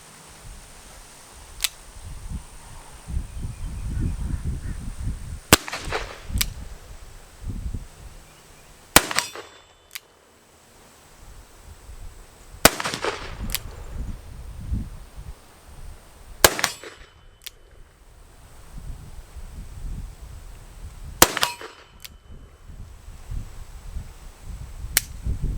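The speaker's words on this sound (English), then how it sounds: "Go ahead and see if I can take a few more shots before we go. Let's do it one-handed like the old days." Cimarron Colt 1860 Army revolver fired one-handed at an outdoor range at 35 yards: six sharp, loud shots spaced a few seconds apart, each with a brief ringing decay and quieter handling noise between.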